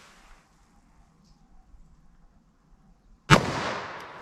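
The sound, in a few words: 357 Magnum gunshot into denim and MDF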